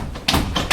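Knocking on a door during a stage play, two or three dull thuds in quick succession, close and fairly loud, with no voices over them.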